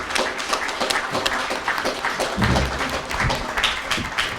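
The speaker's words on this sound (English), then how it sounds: "another round of applause for Shazia Akhtar" Audience clapping at a Birmingham rally after a speech, loud and close, with uneven sharp claps and a few heavier thumps mixed into a continuous burst of applause.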